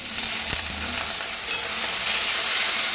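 Fish curry with potatoes, ridge gourd, vegetables, salt, a pinch of sugar and water being mixed in a pan: a steady bright sizzle and hiss throughout, with a single dull scrape of the spoon early on.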